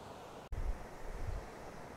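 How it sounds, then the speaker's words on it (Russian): Wind and surf at Zambujeira do Mar beach make a faint, continuous rumble and gusting wash, with a brief dropout early on and no voices. "это пляж Замбужейра"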